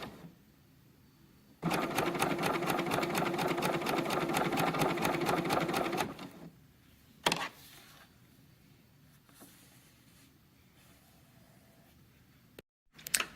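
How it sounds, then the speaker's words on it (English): A sewing machine stitching with a twin needle runs in one fast, rhythmic burst of several seconds, then gives a single short whir, with quiet handling noise between. "A double needle in your sewing machine works almost exactly like this cover stitch."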